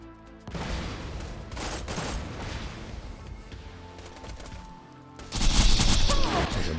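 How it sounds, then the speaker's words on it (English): Spider tanks in the Borderlands video game fire shock projectiles and rockets, a continuous clatter of gunfire and blasts that swells into a louder, harsher burst of explosions near the end. "So the spider tanks can shoot shock projectiles as well as rockets."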